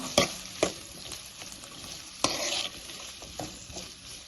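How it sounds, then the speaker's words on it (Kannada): Chopped tomato frying in a little oil as part of a Kannada-style vegetable stir-fry gives a soft, continuous sizzle, broken by a few sharp clinks and scrapes of stirring. The sound is close and moderately quiet, with no voices. "ಸ್ವಲ್ಪ ಎಣ್ಣೆಯಲ್ಲೇ ಫ್ರೈ ಮಾಡಬೇಕು"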